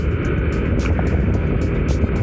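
Yamaha NMAX scooter engine idles steadily with a dense, even mechanical hum and a faint whine, continuous and close with no talking.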